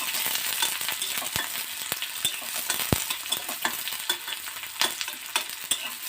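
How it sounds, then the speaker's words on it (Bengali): A spatula stirs onions frying in oil for a banana-flower chop: continuous close sizzling broken by sharp scraping clicks and taps at irregular intervals, with no voices. "খুন্তি দিয়ে অল্প অল্প করে নেড়ে দেবেন"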